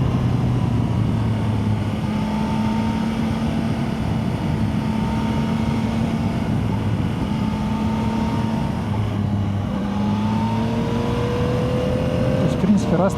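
A 2025 Yamaha Tracer 9 GT+ motorcycle engine drones steadily as it accelerates, its pitch climbing and dropping with gear changes, while a person talks over it.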